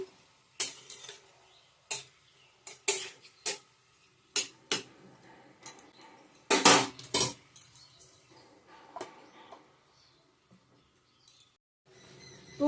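A metal lid goes onto a cooking pot of banana flower, with scattered sharp clinks and clatters of metal against metal, separated by quiet pauses.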